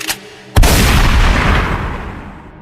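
A single loud, booming gunshot cracks out after a faint click, its blast rolling and slowly fading away.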